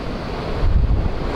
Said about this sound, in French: Vous entendez la mer.